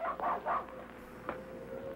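A dog gives several quick yapping barks in an old film, three close together at the start and one more a moment later, over a faint steady hum.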